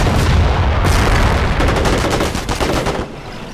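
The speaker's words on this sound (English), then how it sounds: "Incoming gunfire!" Gunfire in the Company of Heroes video game, a dense loud burst of rapid overlapping shots and booms, close and continuous for a few seconds before easing off.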